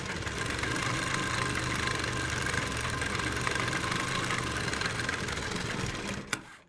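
A sewing machine runs steadily as it stitches a seam on a darted kameez suit. It makes a close, continuous mechanical whirr for about six seconds, then stops with a brief click.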